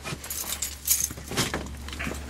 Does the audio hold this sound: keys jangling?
yes